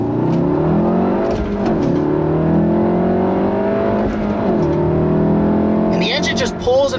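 The engine of a 2016 Volkswagen Golf R with a six-speed manual pulls hard under acceleration, its rising drone climbing steadily in pitch from inside the cabin while a person talks over it.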